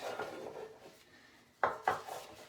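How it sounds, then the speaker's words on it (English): Bread pans are greased with Crisco on wax paper, giving soft rubbing and scraping followed by two sharp metallic clanks of the pans close by. "make sure I rub all the surfaces really well with Crisco"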